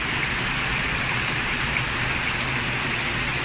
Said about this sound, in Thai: ฝนก็ตกหนักมากเลยนะคะ ตอนนี้